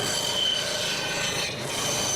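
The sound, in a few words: cutting wood pieces for holiday craft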